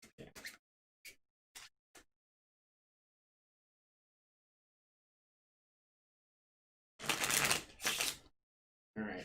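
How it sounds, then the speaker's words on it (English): A deck of Deep Madness board game cards is shuffled in brief scratchy bursts: several quick riffles early on, a long pause, then a louder longer shuffle and a final short one, with no talking. "So let's shuffle this entire deck."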